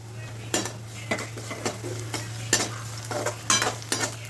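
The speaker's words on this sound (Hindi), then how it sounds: "जब आपका इस तरह से ये प्याज भुन जाए" Onions frying with green chillies in a pan in a home kitchen, stirred with a utensil, giving a steady sizzle with repeated scraping and clinking strokes against the pan, close and alone.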